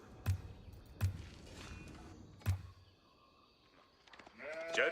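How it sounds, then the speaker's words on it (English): Sheep in the Age of Empires IV strategy game during a Mongol match: a few short, soft thumps and bleats spaced out, ending in a clearer, louder bleat. "The Mongol has managed to find quite a bit of sheep."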